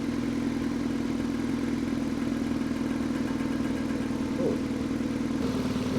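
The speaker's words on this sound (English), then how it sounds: "it sounds like it's making the engine quieter." A car engine idles steadily after Wynn's Stop Smoke has been poured in, a constant low mid-pitched hum running unbroken throughout with no voices.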